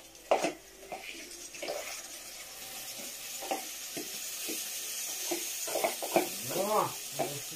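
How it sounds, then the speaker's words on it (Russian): Water is poured into a pan of frying rice and meat, giving a hissing, bubbling sizzle with scattered clinks of cookware and brief faint talk, fairly quiet and close. "Водичкой зальем."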